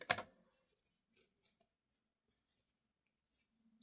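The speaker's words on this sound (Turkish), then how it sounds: "Saklamak için biraz uzun bırakıp kesiyorum." Scissors snip through acrylic yarn at the end of a crochet chain with a single crisp cut at the start, then faint clicks and small handling rustles in a quiet room.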